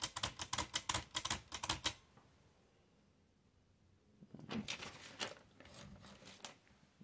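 Smith Corona Standard portable typewriter being operated, a rapid burst of sharp mechanical key clacks, then a quiet pause, then a second looser run of clicks and clunks from the backspace mechanism, close and crisp.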